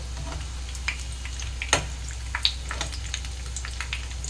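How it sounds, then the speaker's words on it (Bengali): Vegetable chops frying in hot oil: a steady, close sizzle with scattered sharp pops and crackles, one louder spatter near the middle, no voices. "এইভাবে আমি সুন্দর করে ভেজে নেব।"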